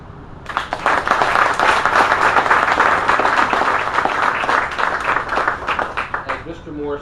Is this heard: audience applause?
yes